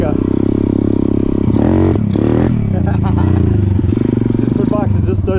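Pit bike engine revving hard during a wheelie, loud and close with a rising and falling buzzy drone and some clattering, and a voice talking over it.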